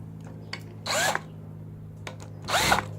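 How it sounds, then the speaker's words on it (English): A power drill countersinking holes in metal rails for a recycled CNC build, two short, loud bursts of whining drilling about a second and a half apart, separated by quiet handling clicks. "I might as well countersunk the holes."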